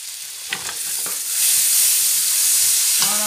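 Garlic sizzles and fries in a pan for Congolese tripe in white sauce, a steady broad hiss that swells louder midway, with a few soft stirring clinks early on.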